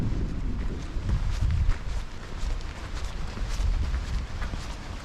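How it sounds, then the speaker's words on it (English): Strong wind blowing down a lake, roaring and buffeting steadily against the microphone with gusty rumbles throughout, loud and close with no voices. "You can feel the wind from here."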